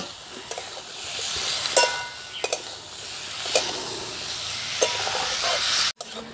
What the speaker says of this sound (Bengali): আলু আর বেগুনটা আমি ভালো করে মশলার সাথে কষিয়ে নিয়েছি